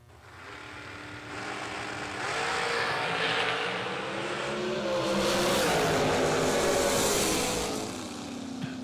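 Drag racing cars leave the starting line at a Laris Motorsports Insurance $250K event, engines revving hard and swelling into a loud roar that holds steady before easing off, heard from a distance with no talk.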